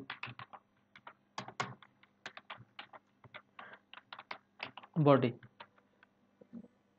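Code typed on a computer keyboard while building a web page body in a PHP web design class: quick, irregular keystrokes close up, with a brief louder burst of key presses partway through.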